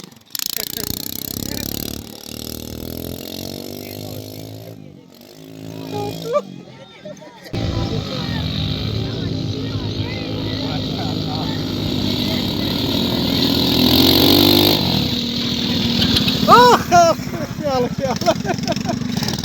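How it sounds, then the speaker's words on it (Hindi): A motorcycle engine drones steadily beneath speech and background chatter, rising in intensity toward the end with a few sharp higher tones. "अकरम भाई जी बाइक पे बैठ चुके हैं, बाइक की सवारी भी करने लगे हैं।"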